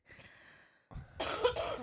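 A few harsh coughs from a sick person follow a brief murmur of voice and a short pause, loud and close, the coughing bunched together near the end.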